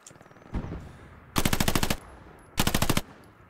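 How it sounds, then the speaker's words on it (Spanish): Two loud, close bursts of rapid machine-gun fire in the video game Hell Let Loose, each lasting about half a second, with a quieter single shot before them. "puta mierda de ametralladora"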